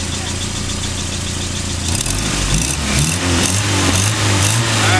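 Nissan Hardbody pickup engine idling, then revving up as the gas is pressed, rising and falling in loud near pulls; the exhaust header has a small crack.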